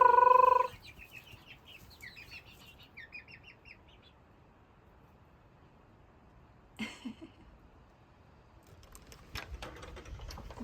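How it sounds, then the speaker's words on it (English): Chickens settle into their coop for the night: a loud harmonic call opens, then soft chirps and clucks trail off into quiet, with a brief squawk midway and scattered rustling and bumps toward the end. "The big chickens have put themselves to bed too."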